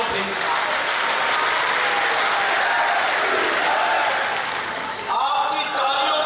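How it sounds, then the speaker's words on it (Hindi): Crowd at a political election rally in Rajasthan gives loud, sustained applause and cheering, a dense roar that dips briefly near the end before surging again. "आपकी तालियों की गड़गड़ाहट में जो मैं उत्साह देखता हूं"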